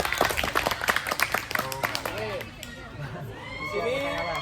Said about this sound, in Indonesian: Ayo kita tepukkan bareng-bareng.